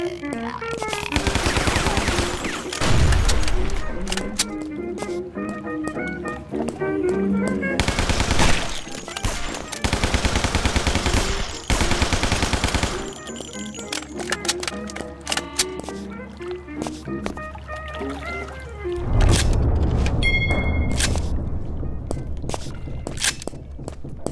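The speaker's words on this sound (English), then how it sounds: "Nothing beats the good old Tommy gun." Tommy gun bursts in the zombie shooter Guns, Gore & Cannoli, loud rapid machine-gun volleys in several separate bursts amid game music and effects, with a voice speaking in between.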